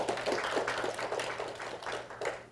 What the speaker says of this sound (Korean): 좋은 말씀해 주신 노동석 센터장님께 큰 박수 부탁드립니다